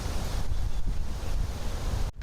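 A 180-degree pop-up lawn sprinkler head spraying water several feet gives a steady, close, broadband hiss that cuts off abruptly at the end.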